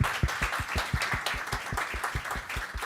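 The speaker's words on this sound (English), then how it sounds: "Let's give one more round of applause." An audience at a JuliaCon 2024 conference session gives a short round of applause, a brisk run of even, fairly close claps at a moderate level with no voices over them.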